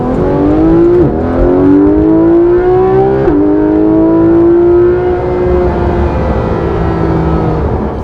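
Porsche GT3 RS with PDK gearbox accelerating hard, engine note climbing steadily through the revs with quick gear changes around one and three seconds, loud and close throughout.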